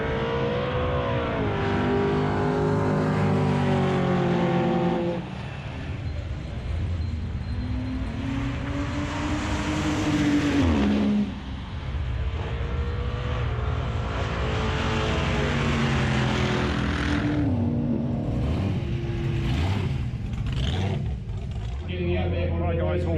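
Several race car engines, including a supercharged hot rod, rev and roar as they accelerate in roll racing, pitch sweeping up and down over a continuous loud drone.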